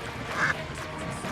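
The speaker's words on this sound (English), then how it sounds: "Look at the ducks!" Ducks quacking outdoors, one or two short nasal quacks close by over a dense background of ambient noise.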